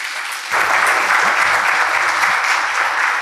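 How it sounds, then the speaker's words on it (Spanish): Audience applause for an economics lecturer at a conference on the post-pandemic economy, starting abruptly after half a second of quiet and holding as a steady, dense wash of clapping that fills a hall. "Y con un fuerte aplauso a Fausto Spotorno"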